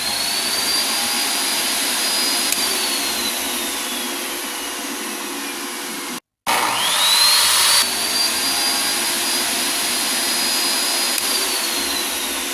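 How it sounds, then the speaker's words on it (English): A miter saw powered through a 12 volt low-frequency inverter spins up with a steady loud whine, briefly cuts out, then restarts and runs on with a rising and falling motor pitch. "Okay, so it can run the miter saw quite easily."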